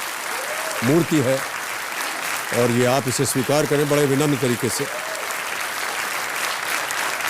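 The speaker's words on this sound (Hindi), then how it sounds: "एक बार फिर तालियों के साथ इनका अभिनंदन करते हैं" A studio audience on a KBC quiz show set keeps up steady applause throughout, a dense wash of clapping running under someone speaking in the foreground.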